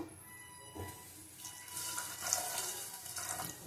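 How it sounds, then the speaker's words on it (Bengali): Water poured from a tap into a pot of split pea lentils while cooking, a steady splashing stream close by that grows fuller after a brief start. "জল দেওয়া আছে, আর অল্প জল দেবো।"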